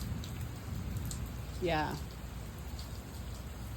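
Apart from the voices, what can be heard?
rain falling in Arizona City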